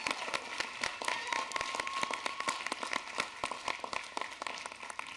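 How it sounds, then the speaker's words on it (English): An audience at the Ignite High Desert event applauds, dense continuous clapping from many hands filling the room at a steady level throughout. "Let's give a big round of applause to the chair of the Ignite High Desert event, Terry Sines."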